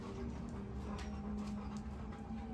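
Two dogs, Trooper and Gidget, panting and whimpering softly nearby over a steady low background hum, faint and continuous.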